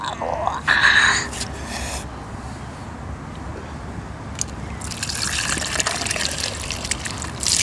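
Water is poured into a pot while mixing a play potion, splashing loudly at first, then returning after a pause as a longer, steadier trickle and gush at close range.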